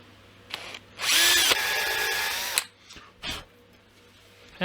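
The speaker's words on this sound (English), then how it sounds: "I'm gonna angle it and drill slowly and come out the other side." Power drill boring slowly at an angle through the wooden body of a tagelharpa, a steady whirring burst of about a second and a half, close and loud, followed by a few brief quieter handling sounds.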